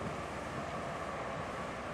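Steady wind blows near the sea with a ferry harbour close by, a continuous broadband rush at moderate level filling the whole stretch without pause and with no voices.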